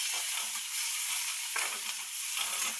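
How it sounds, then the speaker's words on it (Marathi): Onion frying in a pan for a Marathi-style pasta, a continuous close sizzle with soft stirring swishes rising and falling, no voices. "कांदा चांगला फ्राय होऊ द्यायचा बघा."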